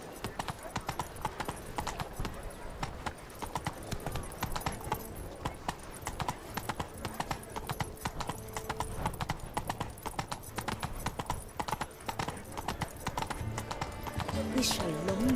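Roach, the horse in The Witcher 3: Wild Hunt, gallops in a steady rapid clip-clop of hooves with occasional snorts and a whinny, mixed with game sounds while someone speaks over it now and then.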